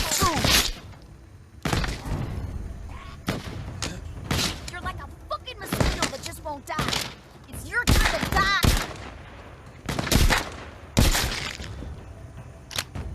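Shotgun blasts in the video game The Walking Dead: Saints & Sinners crack out loud and close, more than a dozen irregular shots with thuds and clatter between them, while a voice talks over the action.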